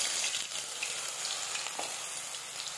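Ground spice paste with bay leaves frying in hot oil in a pan for butter paneer kadai masala, a steady soft sizzle and crackle with no talking.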